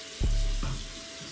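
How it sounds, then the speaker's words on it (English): Tap water is turned on for a hair wash, a sudden gush followed by a steady, soft rushing hiss of flow, fairly quiet and with no voices. "We're gonna get the water going"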